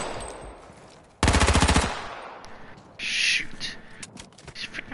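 Automatic MP7 gunfire in the video game H1Z1 on PS4, a loud rapid burst lasting under a second, followed by quieter game sounds and ambience.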